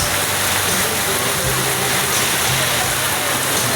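Heavy rain pours down steadily in Raon, a dense, loud, unbroken hiss that fills the whole clip with no pause or letup.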